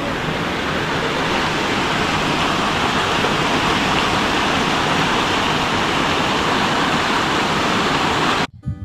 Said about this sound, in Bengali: এই যে নিচ দিয়ে জল বয়ে গেছে